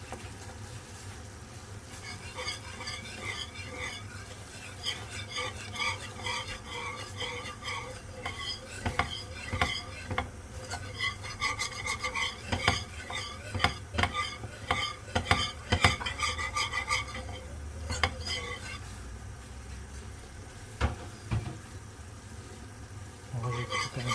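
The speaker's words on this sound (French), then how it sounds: "je remue le tout, puis je mets le fromage." A utensil stirs gnocchi with cheese in a pan, giving a close, repeated run of scraping clinks and soft sizzles that rise and fall over about twenty seconds.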